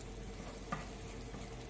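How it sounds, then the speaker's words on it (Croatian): Rice frying with onion in a pan gives a quiet, steady sizzle, with a faint scrape of stirring partway through. "I sada rižu miješamo da se riža zagrije."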